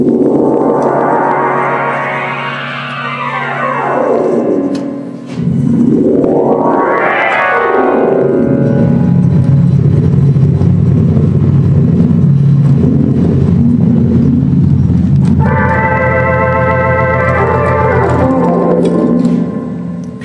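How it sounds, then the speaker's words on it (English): A Hammond D-152 organ with a faulty reverb plays loud swooping, sliding tones drenched in heavy reverb, wailing up and down in pitch, then sustained chords with a long washing echo tail. "I've got the reverb kind of working, as you can see."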